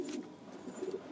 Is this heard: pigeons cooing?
yes